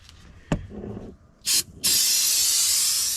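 Corrosion X rust inhibitor sprays from an aerosol can during service on an Argo ATV: a brief close hiss, a short pause, then a loud steady spray that keeps hissing to the end.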